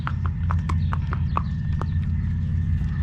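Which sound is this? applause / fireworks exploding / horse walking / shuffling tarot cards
horse walking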